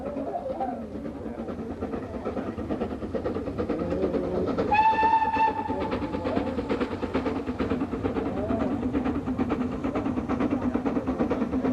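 Steam locomotive 75069 hauling a Network SouthEast special toward Ashford, a continuous rumble of the train and rolling wagons with a short, clear whistle blast partway through, then rhythmic rail clatter continuing.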